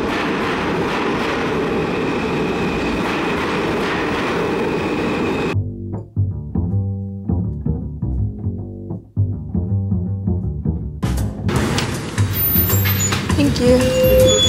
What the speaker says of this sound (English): Okay, the train's gonna come.